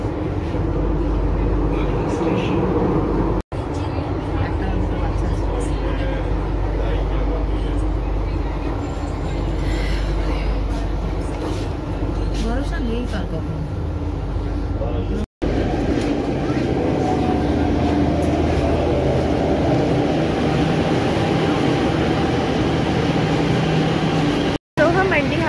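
A Delhi Metro train rumbling along at steady speed, loud and close from inside the carriage, with a constant low roar and occasional rattles.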